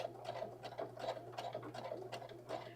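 Sewing machine running a light stitch over sticky-back tearaway stabiliser during rope sewing, a faint, soft, irregular patter of needle clicks over a low steady hum.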